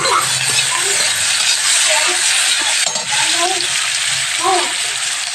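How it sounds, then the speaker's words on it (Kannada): Green chickpea palya fries in a pan with a loud, continuous sizzle, while occasional stirring scrapes and light metallic clinks of a spoon against the pan rise through it. "ಚೋಳಿಕಾಯಿ ಪಲ್ಯ ಫ್ರೈ ಮಾಡ್ಬೇಕು ನೋಡಿ"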